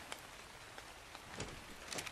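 Rain falls in the ARK: Survival Evolved video game, a soft steady patter on surfaces with a few sharper drops, faint and continuous with no voices.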